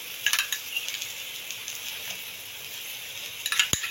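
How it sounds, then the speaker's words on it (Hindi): Paratha frying on a hot griddle with desi ghee, giving a steady soft sizzle with a few light clicks and scrapes of a utensil near the start and end, no talking. "अब इसकी साइड चेंज करते हैं और इस साइड पे भी हम देसी घी लगाएंगे।"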